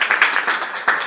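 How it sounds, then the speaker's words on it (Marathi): An audience claps at a 10th class test series prize distribution, a short patter of many hands clapping fairly loudly in an indoor hall, with a fresh burst near the end. "हा टाळ्या वाजवा."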